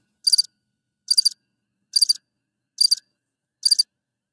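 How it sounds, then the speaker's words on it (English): A cricket chirping sound effect plays from a soundboard as five evenly spaced, high trilling chirps, clear and isolated against silence. "how do you like the crickets?"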